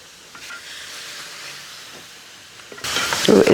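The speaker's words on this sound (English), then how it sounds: "Now we're going to put skin side down in this hot skillet." Skin-side-down meat hits a hot skillet, and a loud, bright sizzle bursts in near the end after a quieter stretch of low kitchen noise.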